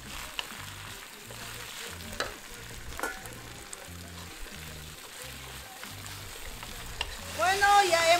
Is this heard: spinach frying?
yes